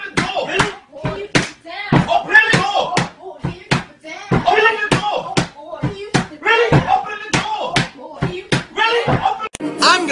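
Loud, insistent knocking on a door, sharp repeated bangs in uneven bursts across several seconds, with voices talking and shouting between the knocks.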